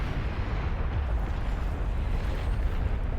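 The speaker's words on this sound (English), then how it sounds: "It is a pretty good nuke right there." A nuke detonates in the real-time strategy video game Beyond All Reason, a sustained loud low rumbling roar that fills the whole stretch without letup and with no talking.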